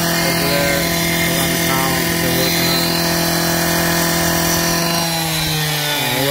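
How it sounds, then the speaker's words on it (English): A power saw makes an angle cut in trim for a new front entrance, a loud, sustained whining buzz that holds steady, then dips slightly in pitch near the end as the blade works through. "he's got to cut an angle, so the angle cut goes better down over there"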